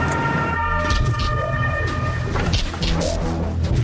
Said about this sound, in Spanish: docenas de coches de bomberos y ambulancias acuden a la escena